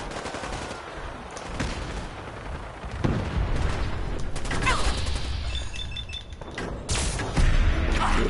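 Grenade blasts and rapid gunfire in the video game Fallout 4, loud, dense bursts of shots and booming impacts that continue almost without pause, with heavier explosions near the middle and end.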